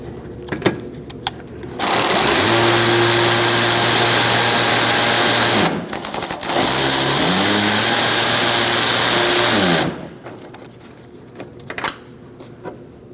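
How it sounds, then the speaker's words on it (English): A power ratchet with a 7mm socket whirs loudly in two sustained bursts with a short break between them, backing out a fender liner bolt on a 2016-2019 Chevrolet Cruze 1.4L. "You're going to use a 7mm socket and remove it."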